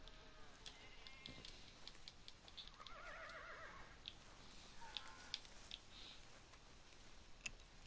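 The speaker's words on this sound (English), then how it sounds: "Yeah, that's a mule." A mule whinnies in the video game Red Dead Redemption 2, a faint, distant, wavering neigh heard once over quiet ambient background with occasional soft ticks.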